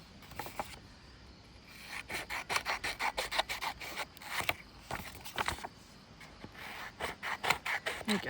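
Paper being trimmed for a small vintage folio, a series of close rasping cutting and rubbing strokes in uneven bursts, some quick and clustered, with quiet pauses between.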